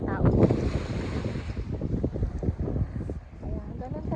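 Strong seaside wind gusts hard across the microphone, producing heavy, uneven low rumbling and buffeting that rises and falls throughout, with the sea faintly beneath.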